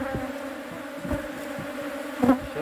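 Bees buzzing steadily at a beehive during a check on a weak swarm, a close, continuous insect drone with brief louder swells as individual bees pass near.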